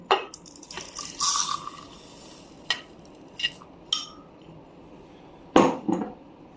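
Whole garam masala spices tumble into a wide grinder jug in a kitchen in several separate rattling pours and clinks, close and fairly loud, with quiet gaps between them.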